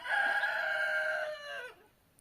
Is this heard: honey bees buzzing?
no